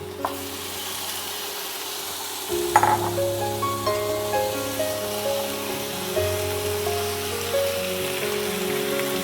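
Charcoal-smoked chicken goes into a hot pan and crackles into a dense, close sizzle after a soft clatter, with an electric hum droning underneath throughout.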